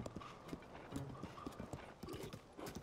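Rapid rhythmic hoofbeats of a horse running in The Legend of Zelda: Tears of the Kingdom, close and fairly quiet, with a faint whinny mixed in.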